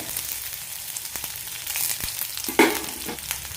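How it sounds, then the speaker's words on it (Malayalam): Shallots and curry leaves sauté in hot oil in a kadai with a continuous loud sizzle, light stirring scrapes and one sharp spattering pop near the end. "ചെറിയുള്ളി നന്നായി ചോക്കുന്നവരെ വഴറ്റിയെടുക്കാം"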